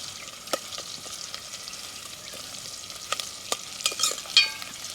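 Bottle gourd chicken curry fries in a pan with a soft background sizzle, broken by a few sharp clinks and scrapes of stirring that grow busier toward the end. Nobody speaks.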